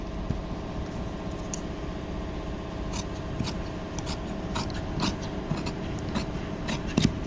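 Scissors snip through leather being trimmed to size for a steering wheel cover, a run of short sharp cuts spaced irregularly over steady low room hum, close and fairly quiet with no talking.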